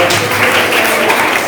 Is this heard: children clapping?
yes